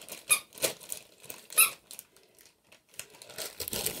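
Squeaky Scentsy tennis ball dog toy giving a couple of short squeaks amid crinkling and rustling of handling, fairly close and soft.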